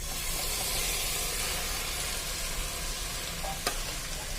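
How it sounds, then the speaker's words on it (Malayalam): Steady sizzling of marinated pork frying in a pan for vindaloo, a constant broadband hiss throughout with a brief sharper crackle near the end. "നമ്മൾ നേരത്തെ മാരിനേറ്റ് ചെയ്യാൻ വെച്ച നമ്മളുടെ പോർക്കിനെ ഇതിലേക്ക് ഇട്ട് കൊടുക്കാം"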